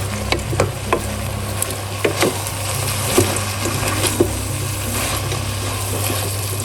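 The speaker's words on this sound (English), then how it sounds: "Give him a stir." Food being stirred in a frying pan for a meat-free dinner: soft continuous sizzling under a low hum, punctuated by about ten irregular spoon scrapes and knocks against the pan, close and fairly loud.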